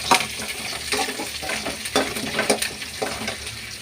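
Garlic, curry leaves and chana dal sizzle and crackle in an oil-filled pan while a spoon stirs them, scraping in an uneven rhythm, close and alone.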